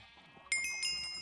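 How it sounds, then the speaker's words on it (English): A Minecraft sheep gives a single short, clear bleat up close, alone against a quiet background. "I need to shear my sheep"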